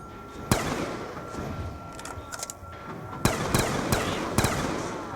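Sharp gunshots ring out in Black Ops 2 Zombies on the Buried map, a few scattered single shots and then a quicker cluster, each cracking loudly over a steady background game hum.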